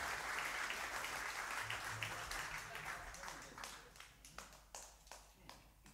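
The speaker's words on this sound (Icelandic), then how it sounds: "gefa þessum drengjum extra gott klapp" Applause from a drum show audience greeting a guitarist and bassist, fairly distant and fading, with sharper scattered claps toward the end.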